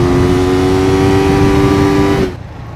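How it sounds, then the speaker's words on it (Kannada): A KTM Duke 250 motorcycle engine at top speed, heard from inside the rider's helmet: a loud, steady droning whine with wind roar that cuts off abruptly near the end. "ಇನ್ನೊಂದು ಈ ಗಾಡೀಲಿ ನನಗೆ ಹೆವಿ ಇಷ್ಟ ಆಗ್ತಾ ಇರೋದು ಮಾತ್ರ ಈ ಸೌಂಡು ಗುರು"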